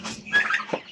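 A turkey on a farmyard gobbles at close range, a single quick rattling burst of calls with no talk over it.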